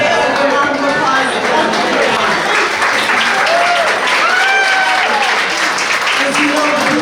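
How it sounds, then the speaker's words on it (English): An audience at a boys varsity soccer banquet breaks into sustained clapping, a dense, loud round of applause with scattered whoops and chatter mixed in throughout. "Good round of applause."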